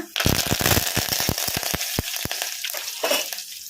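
Dried red chillies and curry leaves dropped into a hot garlic tempering for Andhra-style mango pappu: loud, close crackling and spitting bursts right away, then a steady sizzle with occasional stirring scrapes.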